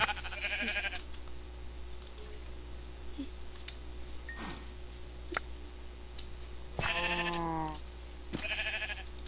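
Sheep in a video game bleat in a few short, wavering calls, one early, then two near the end, over a low steady background hum, with scattered ticks between them.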